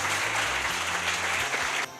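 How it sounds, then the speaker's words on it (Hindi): An audience at a college function in Patna claps a welcome, a dense, even roar of hands filling the room for under two seconds before cutting off abruptly, with a low hum underneath. "एक बार जोरदार तालियों के साथ स्वागत।"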